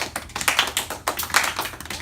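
Hands clap a steady, quick rhythm during a classroom music lesson on counting beats, the sharp claps evenly spaced and fairly close, with no voices over them.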